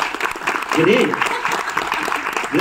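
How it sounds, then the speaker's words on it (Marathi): Loud applause from an audience at a Marathi film event, a continuous clatter of clapping with voices mixed in. "जोरदार टाळ्या प्रिया."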